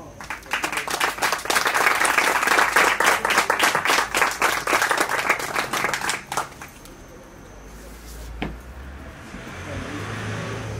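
An audience applauds an artist at a live music show, loud clapping for about six seconds that then stops, leaving a quiet room with a soft thump.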